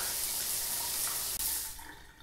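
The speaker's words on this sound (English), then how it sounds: "I'm trying to take a shower here." Steady shower spray hisses from the tub in a Blade Runner 9732 VR bathroom, with a brief cut midway, then the flow thins and fades toward the end.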